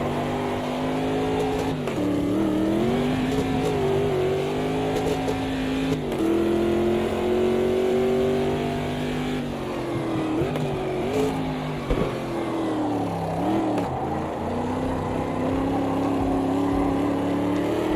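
A race car engine in a multiclass sim racing game roars loud and close without a break, its pitch climbing and dropping through gear changes and revs, with no speech.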